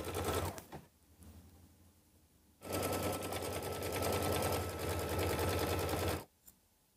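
An embroidery machine stitches a placement line on mesh stabilizer in a 9.5x14 inch hoop, a fast, steady mechanical chatter running in a short burst, then a pause, then a longer continuous run before stopping, close and alone.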